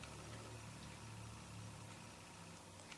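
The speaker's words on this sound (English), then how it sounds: "It's a car passing by." A car passes outside a house, heard through walls as a faint low engine rumble that holds steady and fades slightly toward the end, in an otherwise quiet room.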